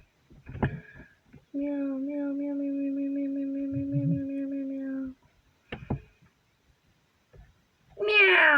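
A cat meows in a cat evolution video game, with one long, steady, drawn-out meow followed by shorter calls. Quiet gaps separate the calls, and a final meow rises at the end.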